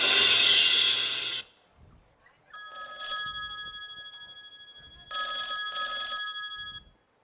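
A telephone rings in two distinct bursts of bright, repeating tones, clear and fairly close, after a loud noisy opening and a short quiet gap, during a school stage drama set in an old-age home.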